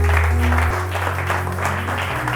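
A church congregation applauding the Lord, with dense sustained clapping throughout, mixed with a low held organ or keyboard drone and some murmured voices underneath.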